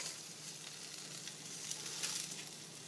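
Bacon sizzles on a burger patty on a hot plate, a steady faint crackle and hiss with scattered pops, no talking.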